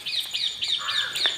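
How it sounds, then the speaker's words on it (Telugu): Birds calling repeatedly outdoors in a home garden, with a run of clear, rising chirps and a harsher crow-like caw near the end, fairly close and steady, with no talking. "మన బర్డ్స్ చూడండి అలా అరుస్తూనే ఉంటాయన్నమాట"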